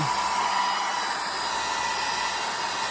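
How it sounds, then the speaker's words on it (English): A hair dryer blows steadily with a constant high-pitched whoosh and hum, close by, with no other sounds. "I'm going to put the hairdryer on"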